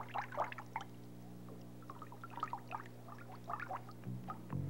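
A photographic print is rinsed in water, with soft splashing and liquid sloshing in short bursts over a low steady hum.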